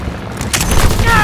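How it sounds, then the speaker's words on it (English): Call of Duty WWII recon aircraft being destroyed: a loud, close explosive burst with crackling gunfire-like impacts, over about a second of game-match noise. "Recon aircraft destroyed."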